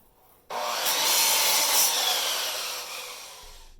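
A circular saw bites into a wooden plank, a loud, close rasping whine that starts abruptly and runs steadily for about three seconds before easing off.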